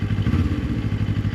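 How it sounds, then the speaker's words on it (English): A motorcycle engine idles with a quick, brief throttle blip, giving a short, close, pulsing burble. "you'll want to just flip the throttle a little bit to see when the pickup actually happens"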